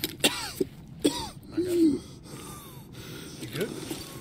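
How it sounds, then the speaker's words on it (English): Game character coughing in Escape from Tarkov with a blacked-out stomach, a few harsh gasping coughs and a throaty rasp, fairly close, amid faint game ambience. "it's just my stomach is blacked out, so my guy's gonna keep coughing"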